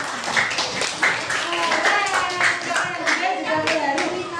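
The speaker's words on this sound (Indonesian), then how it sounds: "Sekali lagi tepuk tangan." A small group claps, irregular hand claps rising to steady applause, with voices mixed in.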